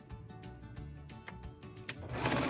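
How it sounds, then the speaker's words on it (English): A sewing machine runs steadily while binding strips are chain-pieced through it one after another, with a quick, even mechanical stitching rhythm close by and brief pauses between seams. "I'm chain piecing all of this right through the machine"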